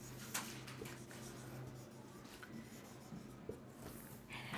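Pen or marker scratching across a surface in steady short strokes during a maths lesson, faint and fairly close, with a few louder taps and scrapes and no talk over it.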